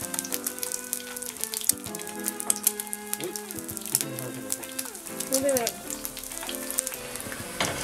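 An egg fries in a pan holding too much oil, crackling and spitting densely with sharp popping bursts over a steady sizzle, close and lively, with faint tonal sounds in the background.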